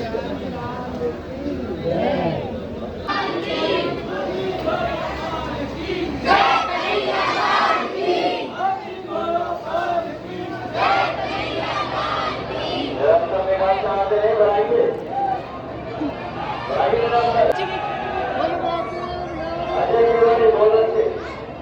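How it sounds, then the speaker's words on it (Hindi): Large crowd packed into Banke Bihari temple in Vrindavan on a festival day, a dense roar of many overlapping voices calling and chanting, with bursts of louder shouting throughout. "गाइस देखो कितनी भीड़ है, मतलब कितनी भीड़ है"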